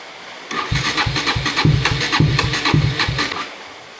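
KTM Duke 200 motorcycle engine cranking on a weak lead-acid battery: a loud, close starter churning in a steady rhythmic pulse of about eight labored turns without catching, then stopping.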